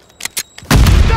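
A Semtex grenade detonates in Modern Warfare III, a loud single blast that follows a few short sharp bursts and then holds as a dense, roaring rumble.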